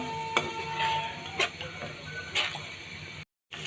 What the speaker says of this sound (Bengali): এখন এই পেস্টটা দিয়ে মশলাটা আরও সুন্দর করে কষিয়ে নিচ্ছি কিছুক্ষণ